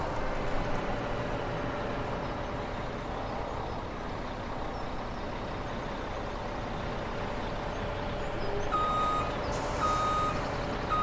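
A truck in Farming Simulator 17, heading off to collect a log auto loader, idles with a steady engine rumble while its reversing alarm beeps repeatedly, the beeps turning clearer near the end.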